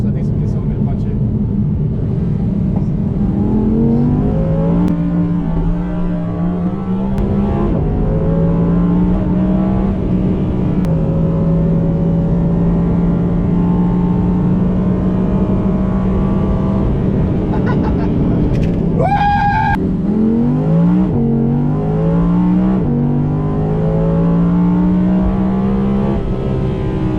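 An Audi R8 sports car engine revs and accelerates hard through several gear shifts, pitch climbing and dropping repeatedly, loud and close throughout.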